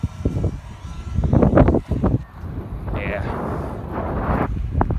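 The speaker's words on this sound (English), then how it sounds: "There's some wind there." Gusty wind buffets the microphone in low rumbling bursts outdoors while testing an Air Hogs Mini Storm Launcher, mixed with brief talk and a thin whirring tone partway through.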